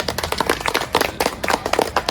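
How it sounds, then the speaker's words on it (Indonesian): A group of children in a classroom clap for two student groups, a quick, fairly close patter of many hands that stays steady and even for about two seconds. "Tepuk tangan untuk kedua kelompok ini."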